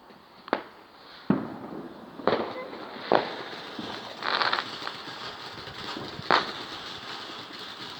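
Firework fountains on bonfire night, heard from a distance as a run of sharp pops and crackling bursts over a steady outdoor hiss, with faint voices in the background.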